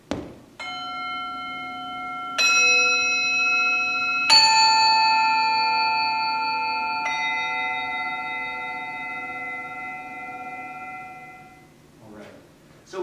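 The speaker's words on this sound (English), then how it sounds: "Even more striking is the particular way these pitches sound when played on the bell." A bell sounds notes from a contemporary composition, several struck tones entering one after another and ringing with long, shimmering overlapping sustains that slowly fade.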